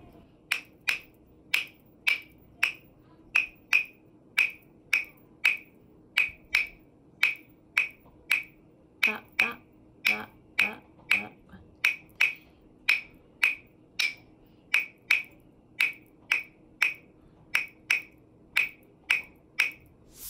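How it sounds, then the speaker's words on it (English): Clave part for a salsa section, played as sharp, bright wooden clicks in a steady repeating clave pattern, close and dry, with a brief soft rustle partway through. "This is a additional clave part that we might use in the salsa section of our Beat Treats band project."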